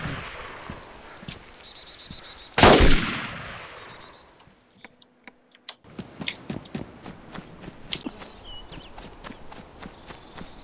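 A single sharp gunshot in the video game DayZ cracks out loud and close, then rings away, with soft footstep-like clatter and faint ambient game noise before and after.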